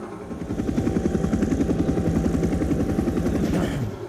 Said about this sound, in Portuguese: olha no helicóptero